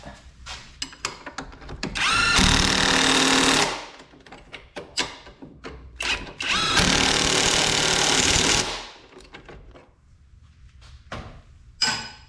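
A power tool tightens the nuts on a Kia Rio front wheel bearing in two loud, close bursts of whirring rattle, each lasting a couple of seconds, with clinks and handling noises between them.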